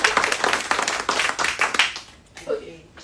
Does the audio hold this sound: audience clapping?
yes